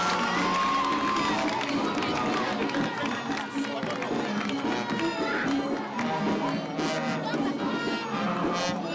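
A large crowd at a Day of the African Child celebration in Makueni County keeps up sustained applause and cheering, loud and continuous, with shouts and excited voices mixed through the clapping.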